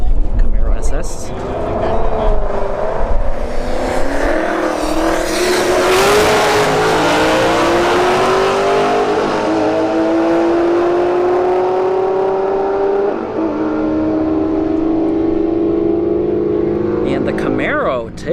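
Drag racing cars launch and accelerate hard down the strip at Bradenton Motorsports Park, one loud engine note climbing steadily through gears before fading, with an announcer talking over the roar.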